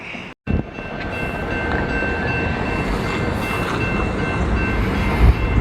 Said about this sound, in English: got a Norfolk Southern train coming up the line here